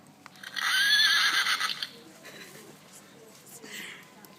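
A voice imitates a horse's whinny for a farm animal noises challenge: one loud, wavering neigh up close that trails off, followed by quieter breathy sounds.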